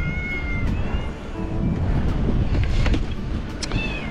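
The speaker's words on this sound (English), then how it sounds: "If you hear that, you hear cats." Cats meow outdoors on a snowy farm, a few drawn-out cries rising over a dense, rumbling background, with no talk.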